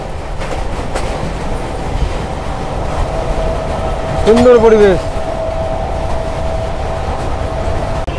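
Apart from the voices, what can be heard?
passenger train running at speed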